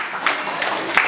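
An audience claps steadily at a one-year-old's birthday celebration, a dense continuous patter of hands with a few sharper bursts standing out.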